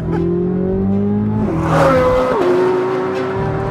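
A 2023 Corvette Z06 engine wails loud and close, holding high revs, then dropping in pitch through two quick gear shifts before climbing again, with no talking.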